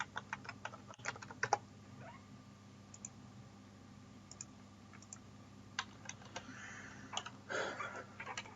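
Someone types commands on a computer keyboard to log into a server over SSH, producing quiet, irregular key clicks and taps in short clusters over a low room hum.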